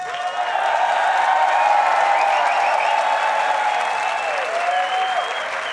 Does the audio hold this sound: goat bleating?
no